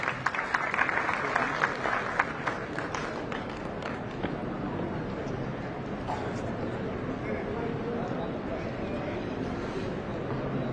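Steady crowd applause at an award ceremony in Jaipur fills the whole stretch, dense clapping with some sharper individual claps early on, a voice or two faintly underneath.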